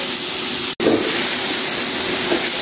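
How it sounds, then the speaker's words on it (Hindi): Minced meat (keema), boneless and destined for a keema matar dish, fries in a pan with a steady, loud hissing sizzle that breaks off for an instant, then carries on continuously with no talking. "तभी थोड़ा सा कीमे को भी फ्राई कर लेते हैं"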